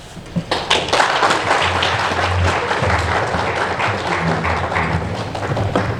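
Sustained applause fills a seminar hall on Chinese investment in Zimbabwe after a keynote address, a dense, even patter of many hands with a few low thumps underneath.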